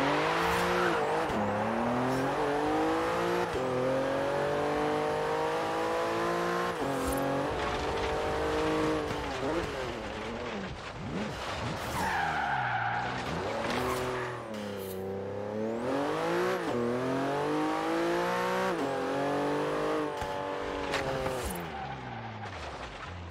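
A Porsche with a dual-clutch paddle-shift transmission drives in the Forza Horizon 3 racing game, its engine note loud and continuous, repeatedly revving up and dropping through gear changes with occasional tire squeal.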